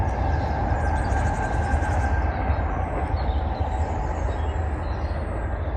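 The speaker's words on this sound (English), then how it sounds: "apart from that train that you can probably hear" A train passes on an early frosty Saturday morning outdoors, a steady broad rumble with a faint high whine that runs loud and continuous for the whole stretch, with no voices over it.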